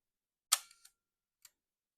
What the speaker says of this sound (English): let's press that shutter button one more time